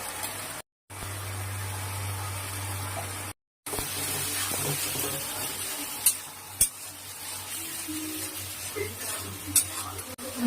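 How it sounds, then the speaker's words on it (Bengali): Spices being sautéed with a splash of water in a pan for a Bengali duck egg curry, a steady close sizzle with occasional stirring scrapes and clinks of a utensil against the pan. "অল্প একটু জল দিয়ে কষিয়ে নেব"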